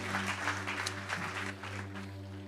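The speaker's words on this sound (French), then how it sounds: "Est-ce qu'on peut les applaudir?" A church congregation applauding a couple, with scattered hand clapping from a crowd over a steady low hum that thins out after the first half.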